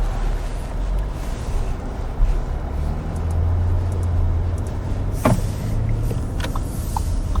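An Audi Q7 55 TFSI with a turbocharged six-cylinder engine drives along, its low engine drone steady under road and tyre noise, with the engine note rising briefly partway through; no talking.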